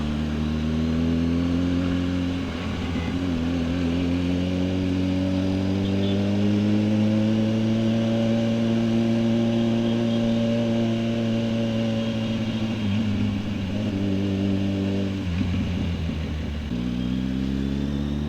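Kawasaki Ninja 1000SX with an Orion muffler and cat delete, ridden on the road, drones steadily and loudly throughout, its pitch rising and falling with throttle changes and shifts.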